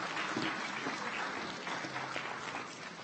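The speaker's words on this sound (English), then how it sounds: "we can clap rather than hooting." Audience clapping at a university convocation ceremony, a steady dense patter of many hands filling the hall for a few seconds without voices.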